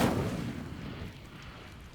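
Incendio fire spell cast in Hogwarts Legacy, a single loud burst with a whooshing, crackling flame that fades steadily over about two seconds, heard alone.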